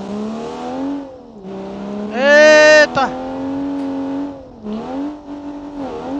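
A Monza in BeamNG Drive revs hard and close, its engine note climbing and sagging with a sharp high-pitched burst midway, while someone shouts excitedly over it.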